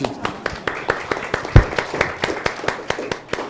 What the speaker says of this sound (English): Let's give her a round of applause today